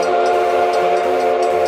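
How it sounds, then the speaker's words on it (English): A steam locomotive makes a steady, loud sound, a sustained whistle-like tone holding over continuous rumbling, with no voices. "Steam locomotive."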